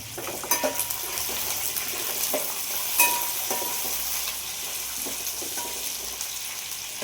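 Curry leaves, carrot and peas frying in a hot pan, giving a steady close sizzle with occasional stirring clinks from a utensil against the pan.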